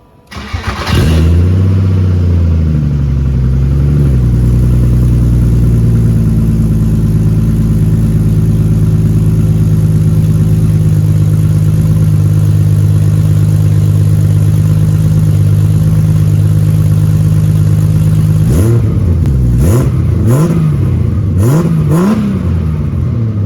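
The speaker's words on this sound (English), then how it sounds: "get an idea of what that exhaust note is going to be like" A turbocharged BMW E36 starts up and idles with a steady, loud exhaust drone, then gets several sharp throttle blips near the end that rise and fall quickly, recorded from behind the car.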